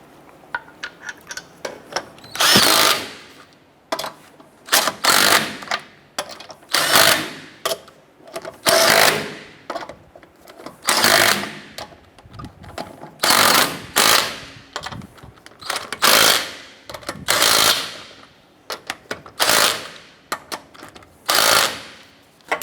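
A power impact tool tightens wheel lug nuts on a 2008-2012 Honda Accord, firing in a dozen or more loud rattling bursts separated by short pauses, close by and without voices.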